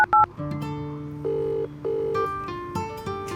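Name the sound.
telephone call dialing and ringing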